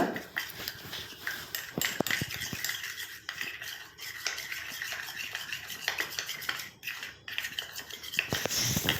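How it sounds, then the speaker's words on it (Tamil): A spoon stirs and scrapes in a bowl while black cumin hair dye paste is mixed smooth, giving repeated close clinks and scraping strokes with brief pauses. "இப்போ கட்டிகள் இல்லாமல் நல்லா மிக்ஸ் பண்ணி விட்டுக்கோங்க"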